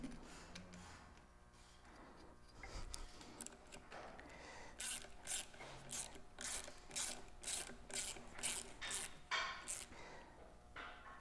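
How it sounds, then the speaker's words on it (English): Hand ratchet tightening nuts on a Toyota 1FZ-FE engine during head gasket reassembly, a steady run of close, loud clicking strokes in regular bursts, with no talking. "And we can tighten up the nuts."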